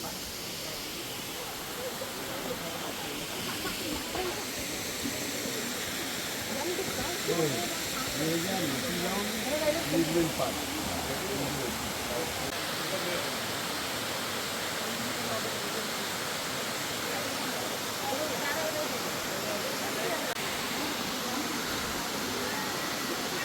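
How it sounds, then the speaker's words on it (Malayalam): Elephant Falls in Meghalaya roars as a broad, steady rush of falling water from its base, loud and continuous throughout, with someone speaking over it at times. "നമ്മളിതാ വാട്ടർഫാളിൻ്റെ ഏറ്റവും അടിയിലെത്തിക്കണ്"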